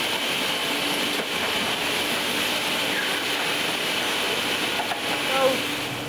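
Book printing press running at a printers, a loud, steady mechanical roar and rumble that fills the whole span without letting up, with faint rattles and knocks on top.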